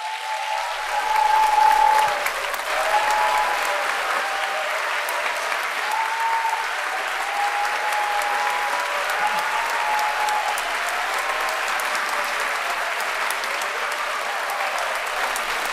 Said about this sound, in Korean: 목사님 나오실 때 큰 박수로 맞이해 주십시오.